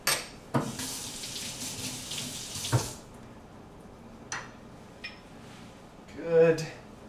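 A kitchen tap runs steadily for a few seconds while something is rinsed beneath it, then shuts off, leaving scattered clinks and a voice speaking nearby.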